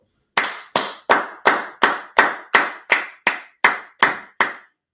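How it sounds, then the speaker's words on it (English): A class clapping in unison, twelve sharp, evenly spaced claps in a steady rhythm, loud and close, with no talk over them. "Clap it up."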